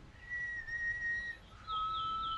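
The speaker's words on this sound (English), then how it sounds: "You suck at whistling." A character in the horror video game Dreadout whistles a short tune of two sustained, steady notes, clear and alone with no talk.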